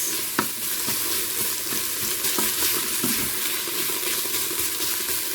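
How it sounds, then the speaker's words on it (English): Tomato puree cooking out in a hot pan, a loud continuous close-up sizzle and crackle with occasional stirring scrapes, steady throughout with no voices. "So at least 2 minutes cooking out your tomato puree."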